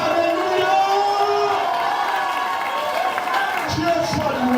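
A church congregation at a Sunday service cheers and acclaims together, many voices shouting and whooping at once, loud and close, in an energetic swell.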